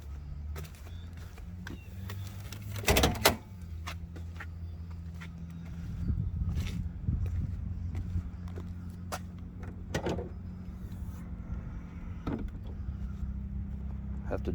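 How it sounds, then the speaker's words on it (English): Someone opens the hood of a 2001 C5 Corvette convertible: a sharp latch clunk early on, then softer rustling and handling sounds, with voices faintly in the background. "let's open the hood"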